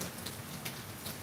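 Steady rain falls on a surface outdoors, a dense even hiss with occasional louder drops, heard alone for a brief stretch.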